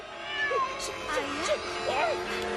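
A stray cat meows several times in short, rising and falling cries, close by, with a faint voice or background sound mixed in.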